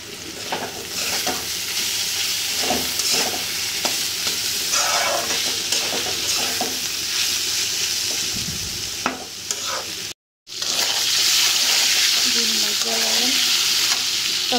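Shrimp and leafy greens frying in a pan make a loud, continuous sizzle while a spoon stirs and scrapes close by, with a brief gap before the frying resumes.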